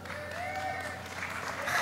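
Audience applause and cheering at Barack Obama's climate change speech at Georgetown University, a steady wash of clapping from a large crowd that swells slightly toward the end, with a voice faintly audible over it.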